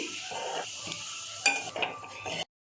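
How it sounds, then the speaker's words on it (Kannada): Fried aloo pieces being lifted from a pan and dropped into a bowl, with soft scraping and a few light metallic clinks of a utensil against cookware, quiet and close with faint sizzling of oil beneath. "ಇದನ್ನು ಅದೇ ಬೌಲ್ಗೆ ತೆಗೆದು ಹಾಕ್ಕೊತಾ ಇದ್ದೀನಿ"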